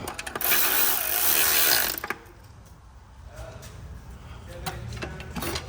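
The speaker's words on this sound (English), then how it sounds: "You can do it with a normal ratchet. Normal hand ratchet. So you just pinch them up." Hand ratchet snugging clutch bolts on a Hyundai Getz, a harsh burst of close clicking and grinding at first, then quieter scattered clicks and handling noises.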